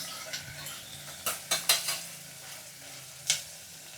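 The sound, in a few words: tomatoes cooking and being stirred in oil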